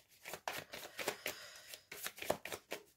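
Tarot cards are shuffled for a reading, with quick, soft papery riffles and flicks repeating in a steady rhythm, close and fairly quiet, with no voice over them.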